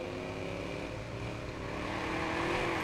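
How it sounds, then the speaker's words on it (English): Car engine in the Watch Dogs video game, a steady sustained drone that rises slightly toward the end, loud and continuous with no talking. "This car sounds awesome."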